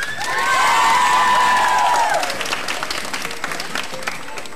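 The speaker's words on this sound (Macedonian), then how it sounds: "Молам аплауз за Владко од екипата на Македонски брод" An audience at a school event in North Macedonia bursts into loud, dense applause with cheering and whoops, near and full at first, then thinning toward the end.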